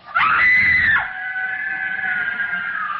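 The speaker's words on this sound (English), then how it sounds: "The girl, screaming with rage, turned on him and buried her nails in his face" A girl screams with rage in a radio drama of Les Miserables, one loud, piercing shriek that breaks off and then stretches into a long, sustained wailing cry.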